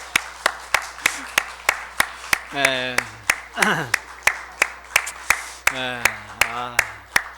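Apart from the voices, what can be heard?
congregation clapping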